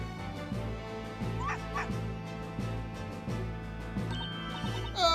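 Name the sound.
aggressive dog barking in Professor Layton vs Phoenix Wright video game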